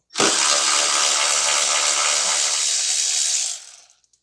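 Power tool loosening a 10 mm bolt near the ABS connector on a 2010 Toyota Corolla 1.8, heard as a loud, close, continuous whir lasting a few seconds before it stops abruptly.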